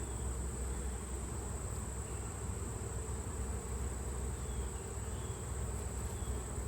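Honeybees buzzing steadily at a hive in October while the combined hives are opened and inspected, a dense, continuous drone of many insects close by with no pauses.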